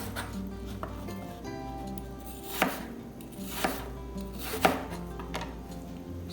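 A knife chops an apple on a cutting board, a few spaced thuds of the blade against wood over faint background noise, close by and without talk.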